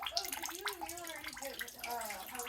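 Water trickling and dripping from a drain into a bucket near a macerator pump pipe, a close, quiet burbling with wavering watery tones and scattered drip splashes.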